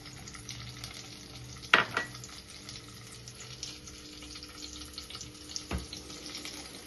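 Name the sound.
capsicum frying in a pan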